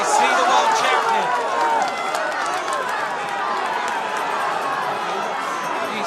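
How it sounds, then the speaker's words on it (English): Roadside spectators at a cyclo-cross World Cup race in Koksijde, Belgium, cheer and shout in a dense, continuous roar for world champion Sven Nys, with a commentator talking over it. "Listen to the crowd as they see the world champion"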